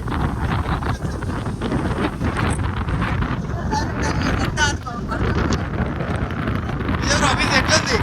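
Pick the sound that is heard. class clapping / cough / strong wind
strong wind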